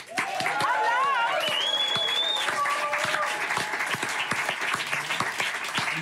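Audience at a live TV show applauding a band with sustained, dense clapping throughout, while a whistling, sweeping tone rises and falls over the crowd early on.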